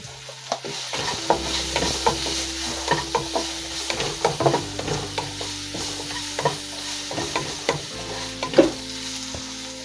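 Turmeric and masala spices sizzling in a hot pan for masala oats, with a constant frying hiss and a rhythm of frequent spoon scrapes and taps close by, without any voices.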